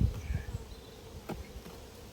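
Honey bees buzz steadily at an apiary hive in a low, continuous drone, with one brief sharp tick partway through.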